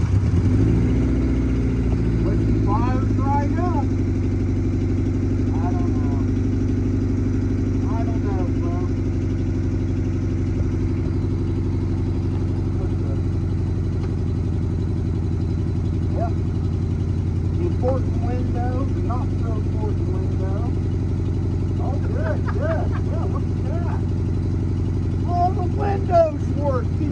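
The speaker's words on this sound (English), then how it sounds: "let's start this puppy up. It's got an exhaust leak." A Honda CR-V engine with an exhaust leak idles close by in a steady low rumble for the whole stretch, while people talk over it at intervals.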